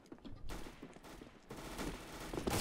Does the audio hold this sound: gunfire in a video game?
yes